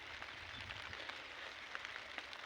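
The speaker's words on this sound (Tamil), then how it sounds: "இப்பயும் தூரல் போட்டுகிட்டே தான் இருக்குது" Light drizzle falls steadily over a watermelon field during harvest, a soft continuous patter with faint scattered droplet ticks and no voices.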